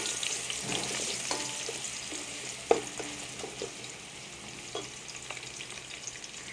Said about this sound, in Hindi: ऑयल हमारा गर्म हो चुका है, इसके अंदर हम प्याज ऐड करेंगे।